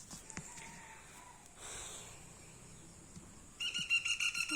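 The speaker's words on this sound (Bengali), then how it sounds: "অনেক সুন্দর পাখি ডাকে টি।" Birds calling at sunset in a village, faint scattered chirps and whistles over quiet rural background, followed by a louder burst of rapid repeated bird calls near the end.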